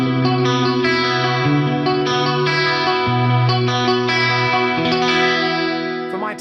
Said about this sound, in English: select the 1210 effect type. This is based on the TC 1210 chorus